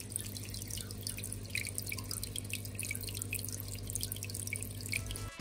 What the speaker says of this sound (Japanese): やっぱ水の音って、こう水の音をバックに喋るのもいいかもしれませんね。